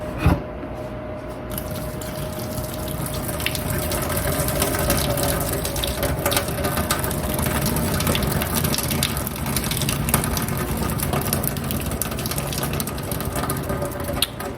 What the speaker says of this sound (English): I'm gonna take this over to the sink, pour out the water, be right back.